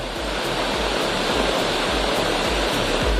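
The main falls at Courtallam roar as a steady, loud rush of falling water that fills the air without a break.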